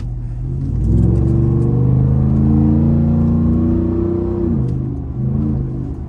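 Ford F150 with a 5.0 V8 revving hard through a loud pull in morning traffic, the deep engine note climbing and holding steady, then dropping off as the throttle eases.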